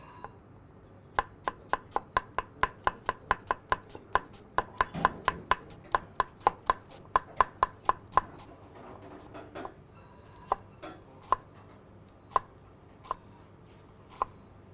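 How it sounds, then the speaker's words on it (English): A knife thinly slices half an onion on a cutting board, making a quick run of sharp, regular chops close up. The chops then slow to sparser single cuts, and no one speaks. "So just simply take the skin off the onion, cut it in half, just thinly slice it like so."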